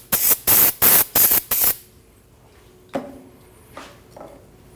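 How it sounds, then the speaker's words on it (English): Brake cleaner sprayed onto the rear brakes of a Nissan NV2500 van in five loud, close hissing bursts in quick rhythm, followed by a few faint clunks and handling sounds. "Spray it off with a little bit of brake cleaner."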